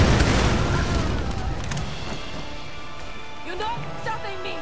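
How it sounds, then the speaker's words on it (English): A grenade launcher explosion in the Tomb Raider video game, a loud boom at the start that fades into rumbling debris and game sounds, with a voice talking faintly underneath. "Oh yes, I do have a grenade launcher."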